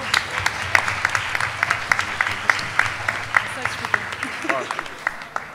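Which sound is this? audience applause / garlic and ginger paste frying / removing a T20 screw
audience applause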